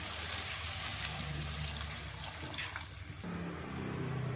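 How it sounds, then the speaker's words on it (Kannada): Water runs and splashes steadily into a mixer jar being rinsed, then the flow changes pitch near the end as it fills; no one speaks. "ಮಿಕ್ಸಿ ಎಲ್ಲ ತೊಳೆದ್ಬಿಟ್ಟು ನೀರು ಹಾಕ್ಕೊತಾ ಇದ್ದೀನಿ"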